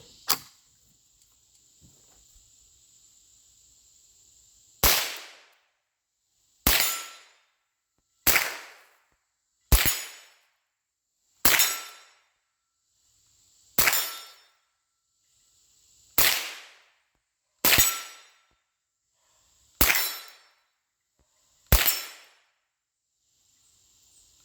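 Gunshots ring out during a test of a gun and its sight, about eleven sharp reports spaced one to three seconds apart after an opening shot and a pause, each with a short decaying tail.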